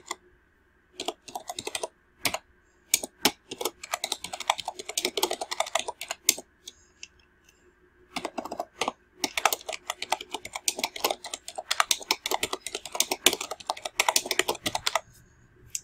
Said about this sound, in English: then we're going to just type in that description